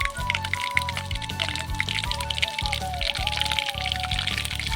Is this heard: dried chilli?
yes